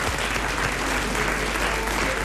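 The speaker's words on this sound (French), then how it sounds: "Vous allez applaudir Monsieur Blavier de Braine-l'Alleud." Studio audience in a French radio show applauding, a loud, dense and continuous burst of clapping that fills the whole moment without any talk over it.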